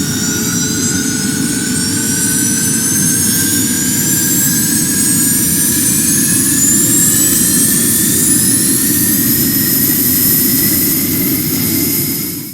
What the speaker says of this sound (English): Here's a jet pack.